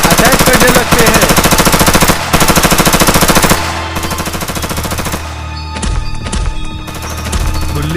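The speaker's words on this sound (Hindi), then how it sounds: "गुल्ली और बुल्ली गन्स का इस्तेमाल कर धीरे धीरे एक एक एलियंस को खत्म कर देते हैं।" Cartoon guns fire at aliens in rapid machine-gun bursts, loud and rhythmic for about four seconds with short breaks, then a quieter stretch of scattered shots and clatter follows.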